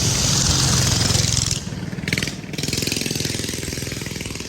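A small turbocharged three-wheeler with a 110-125cc engine drives past loud and near, its buzzing engine pulsing rapidly, dipping briefly, then surging again.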